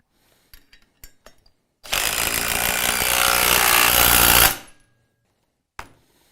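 A Festool power tool sets a plug nut into concrete with one loud, grinding burst of about three seconds, framed by a few sharp mechanical clicks before and one after in otherwise quiet surroundings.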